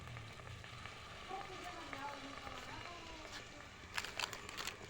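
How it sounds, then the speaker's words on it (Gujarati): Pav bhaji sizzles faintly in a pan as spice masala goes in, a low steady frying crackle with a few sharper rustles and clicks near the end. "હવે જો આપણે આમાં મસાલો નાખી દઈએ છીએ"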